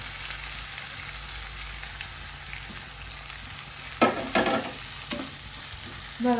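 Onion, curry leaves and ginger sizzle steadily in a hot pan for a Kerala-style tuber curry, a constant frying hiss with a few louder bursts of stirring and scraping near the end.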